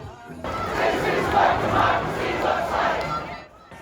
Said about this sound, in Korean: 미국 동부 뉴욕 도심에 함성이 울려 퍼집니다.